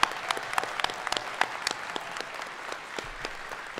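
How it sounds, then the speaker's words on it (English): An audience at the Midwest FurFest 2022 opening ceremonies applauds steadily, many hands clapping in a dense patter that gradually thins toward the end. "And I better hear applause from all of you for that department."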